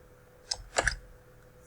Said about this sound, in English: now I'm hitting Backspace on the keyboard